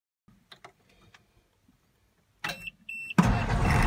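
A GMC dump truck's engine cranks and catches after a few quiet clicks and beeps, ending in a sudden loud roar as it fires up, close by.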